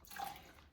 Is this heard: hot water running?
yes